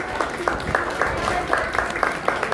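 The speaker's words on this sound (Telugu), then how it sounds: "చప్పట్లు పట్టినట్టయితే అందరికీ కూడా చాలా సంతోషంగా ఉంటుంది." An audience at a thanksgiving ceremony claps in an uneven, modest round of applause, with a voice speaking over it.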